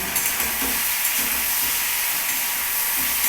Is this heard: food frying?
yes